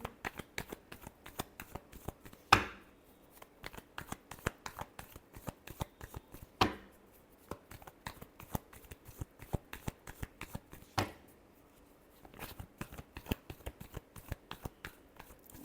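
A deck of tarot cards is shuffled by hand in quick bursts of crisp, close flicking card snaps, separated by brief pauses.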